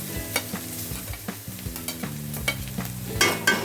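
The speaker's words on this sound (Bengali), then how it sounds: "ওই কড়াইতে এখন দিয়ে দেবো প্রথমে নারকেল কুড়োটা দিয়ে দেবো" Grated coconut fries in a wok, stirred with a spatula that scrapes and taps in a quick irregular rhythm over a soft sizzle, close and alone with no talking.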